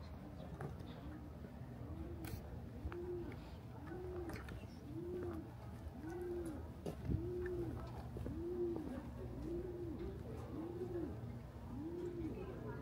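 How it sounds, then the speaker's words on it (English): Pigeons coo in a Seoul alley, a soft repeating rising-falling call about every second, fairly close over quiet street ambience with brief scattered noises. "Can you hear this sound? Is this pigeon sound?"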